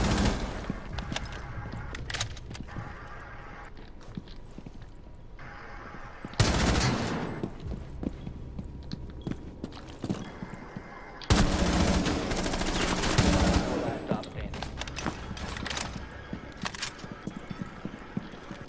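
Gunfire in the video game Rainbow Six Siege, including shotguns, comes as scattered sharp shots and two loud bursts over several seconds, with quieter clatter in between and no talk.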